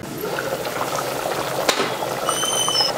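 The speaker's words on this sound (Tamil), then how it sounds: "இப்போ தண்ணி நல்லா கொதிச்சிடுச்சு." Water at a rolling boil in a pot for seeraga samba chicken biryani, a steady bubbling hiss with a faint hum and clink partway through.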